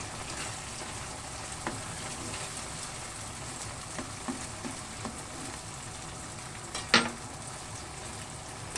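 Garlic and onion frying in a pan for buttered sweet and spicy squid, a steady soft sizzle with faint stirring scrapes and a sharp clatter near the end.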